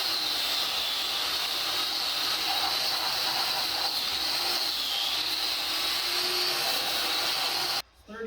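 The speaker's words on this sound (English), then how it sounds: "Just got a nice big heavy wire wheel." A heavy wire wheel grinds rust, mud and grease off a 1950 Mercury M47 truck frame, a continuous loud hissing rasp that holds steady before cutting off abruptly near the end.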